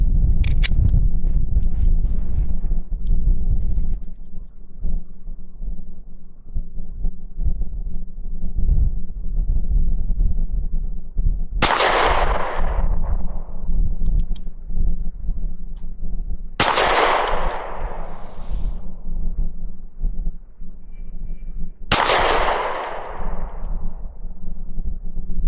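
Three sharp, loud gunshots from a Smith & Wesson Shield 2.0 pistol fired at a target, spaced several seconds apart, each with a bright crack and decaying echo over steady background noise.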